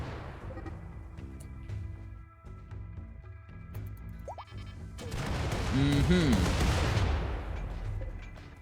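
A bombing run on a portal in Rimworld: scattered small pops and game tones come first, then a dense roar of blasts and crashing swells up and lingers, loud and close, with a voice talking over it.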